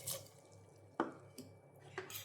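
A cup of water is poured into a cooking pot of beans seasoned with salt and turmeric, giving a few soft, brief splashes and drips over a quiet kitchen background.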